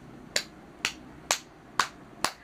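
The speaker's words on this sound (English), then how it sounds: "give me 5 virtual claps" Five sharp, evenly spaced claps or snaps from a participant in an online physical education and health class, each crisp and distinct against a quiet background, with no talking.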